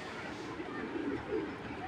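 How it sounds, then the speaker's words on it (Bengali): A Python breed racing pigeon in a loft gives a low, muffled coo over a steady wash of background noise, faint and continuous for a couple of seconds, with a murmur of distant voices. "14-র কবুতর"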